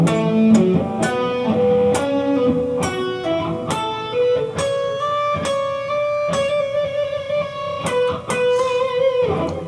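Electric guitar playing the solo section of a song, a quick run of picked and bent notes with sharp attacks at a moving tempo, close and clear with no talking.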